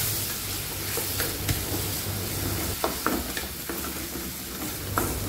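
Ground spice paste for yellow-spiced mackerel pepes sizzles and fries in a hot pan while being stirred, with a steady crackling hiss and occasional scraping clicks of the utensil, close and alone.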